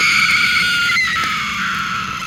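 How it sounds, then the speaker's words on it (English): A loud, sustained scream held steadily across the whole moment, high and piercing with a slight wavering, standing alone without any talk over it. "The sobbing turned into a scream."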